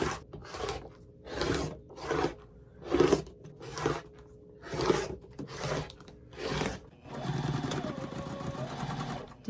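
A sewing machine stitches the final seam of a quilt in short bursts of rapid whirring, pausing between runs, then a longer steady stretch at the end for the back tack.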